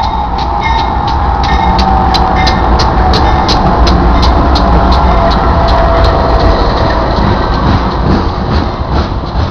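A Union Pacific train rolls slowly past in Geneva, its loud, continuous rumble and rail noise carrying a steady, evenly spaced ticking clatter of wheels over track joints, close by throughout.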